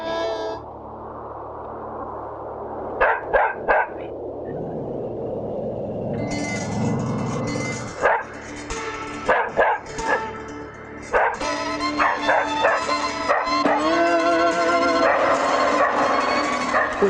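A dog barks and yips in repeated loud bursts over a steady background rumble, with the barking growing busier toward the end.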